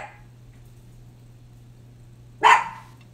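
A single dog bark rings out outdoors near the end, a short sharp bark after quiet with a steady low hum underneath.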